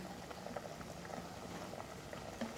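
Thai mushroom curry boiling in a pot, a continuous quiet bubbling with small popping blips, heard close and steady with no talk.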